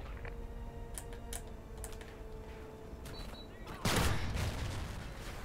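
Gunfire in the shooter game Call of Duty: Ghosts, rapid bursts of shots heard faintly under steady keyboard clatter, with a louder blast or burst near the end.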